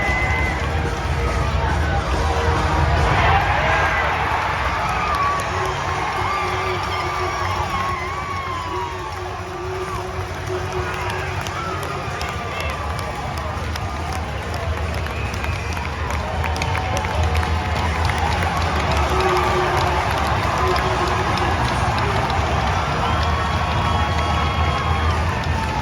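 A college hockey crowd in an Omaha arena cheers and shouts throughout a fight on the ice, a loud, sustained roar of many voices with rising whoops and bursts of noise, never dropping away.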